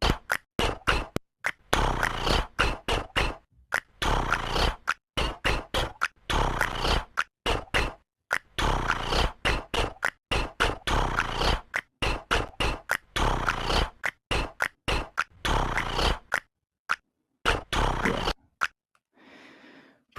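An a cappella beat built from layered tongue clicks and finger snaps, a dense, busy run of crisp percussive hits over a rough textured bed, close and steady for most of the stretch before stopping with a brief soft tail.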